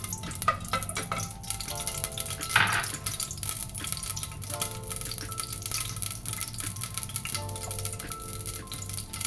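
Whole spices, including bay leaf, crackle and splutter in hot oil for a Kashmiri yakhni pulao, a dense, steady frying sizzle with scattered pops and one louder burst of spitting early on, heard alone without talk.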